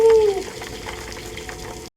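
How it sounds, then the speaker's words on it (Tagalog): Water running from a shower at a beach resort in Subic Bay, a steady hiss of spray that is louder at the start, with a brief tonal squeak, before cutting off abruptly. "shower na tayo dito"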